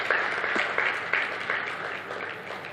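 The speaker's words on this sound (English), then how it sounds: "Can we please give a warm applause to that address once again?" Conference audience giving sustained applause, a steady dense wash of many hands clapping throughout, loud and even with no talking over it.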